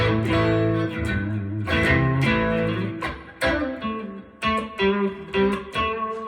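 A distorted electric guitar with its volume knob turned back to about 6 plays chords and short riffs at moderate volume, with sustained notes giving way to choppier strummed hits near the end.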